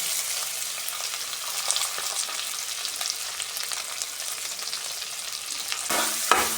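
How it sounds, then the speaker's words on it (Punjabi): Finely chopped garlic and ginger fry in hot oil with a continuous bright crackling sizzle, close and steady, and a few louder stirring knocks near the end, with no speech. "ਇਹਨਾਂ ਨੂੰ ਆਪਾਂ ਤੇਲ ਵਿੱਚ ਪਾ ਦਾਂਗੇ"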